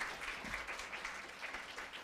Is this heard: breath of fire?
no